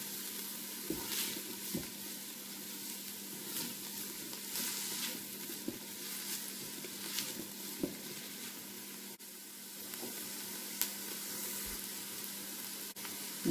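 Onions sweating in a Ninja Foodi pot, sizzling softly and steadily with scattered small pops and crackles, alone and fairly quiet.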